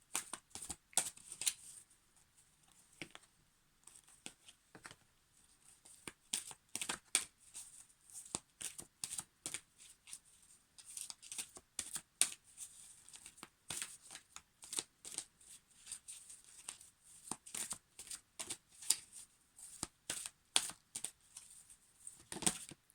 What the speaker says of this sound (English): I was shuffling and the card just flipped